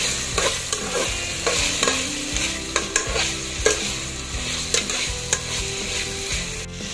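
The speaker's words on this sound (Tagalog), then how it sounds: "lagay na natin yung ating bagu beans, yung ating carrots. Yan, halo-halo natin guys" Green beans and carrots are stirred in a sizzling pan while pancit bihon is being cooked, with repeated close scraping and clattering strokes of a utensil over a steady frying hiss.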